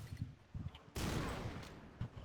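Gunfire in the shooter game Xshot, quiet muffled shots followed by one sustained burst of noise lasting about a second, with faint thuds around it.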